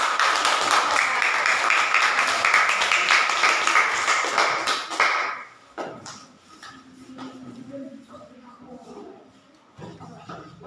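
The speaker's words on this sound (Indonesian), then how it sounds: "Tepuk tangan untuk kelompok." Classroom of children clapping for a group, a burst of applause for about five seconds that stops abruptly, followed by quieter room sounds and light tapping.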